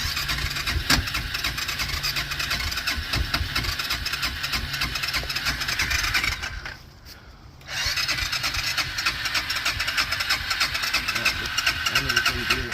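A sportbike motorcycle engine starts for the first time of the year and runs on with a steady, rough mechanical drone, briefly dropping away midway before picking up again, with people nearby.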